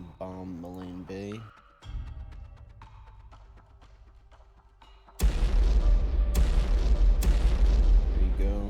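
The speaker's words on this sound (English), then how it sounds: "in the middle of the night, we're going to go ahead and bomb Malin Bay" Heavy bombs bursting over Malin Bay in the naval war game War on the Sea, a sudden loud blast followed by several rolling explosions, after a stretch of quieter game music and tones.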